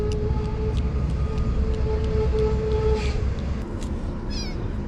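A half-month-old kitten meows in repeated short, thin cries against a steady hum of road or motor noise, outdoors at a campsite in Kunming, Yunnan.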